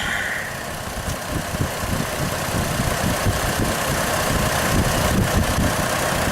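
A 2003 Chevrolet Trailblazer's 4200 engine idling, a steady close rumble with an even low-frequency pulse and faint ticking throughout.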